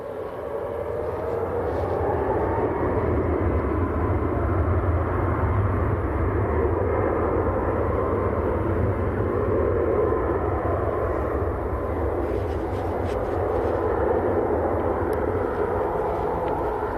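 A passenger jet at Manchester Airport, with a steady, broad engine roar holding loud and even for the whole stretch and no voices over it.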